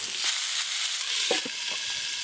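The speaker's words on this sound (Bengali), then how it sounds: "সবজিগুলো আমি ভেজে নিচ্ছি।" Vegetables for khichuri fry in a pan with a dense, continuous sizzle, broken by a few soft knocks of stirring near the middle.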